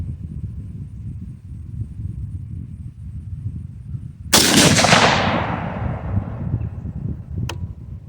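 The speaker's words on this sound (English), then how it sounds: "Let's put another one down there, see if we're in bullseye. Alright, second shot." A single sharp rifle shot from a 22-250 AR10 firing Herter's 55gr soft-point ammunition outdoors, loud and abrupt over low wind rumble, with a decaying echo tail and a faint click afterward.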